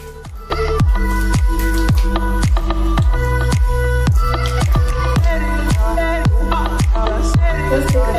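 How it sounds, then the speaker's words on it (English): A face being washed with black soap: wet, squelchy lathering rubbed against skin in a steady, repeated rhythm of about two strokes per second, close up and loud, with no voices. "So we're gonna start this whole routine by washing my face."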